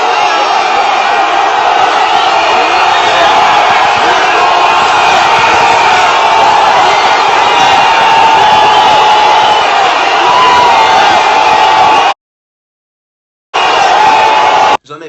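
A large crowd gathered at Laurent Gbagbo's headquarters in Côte d'Ivoire on his return home, a dense, loud wall of cheering and shouting voices that runs continuously, briefly cutting out near the end before resuming.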